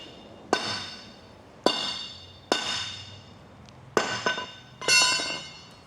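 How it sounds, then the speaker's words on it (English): A crowbar strikes a leather product five times at a steady pace, each hit a sharp close metallic clank that rings briefly and fades, the last blows landing closer together. "Hit it a couple times with crowbar."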